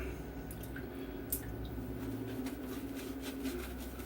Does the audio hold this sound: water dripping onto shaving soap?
yes